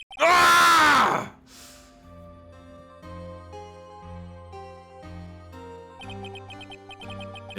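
A loud, drawn-out scream in the Ace Attorney video game, about a second long and close, then cut off and followed by quiet sustained game music.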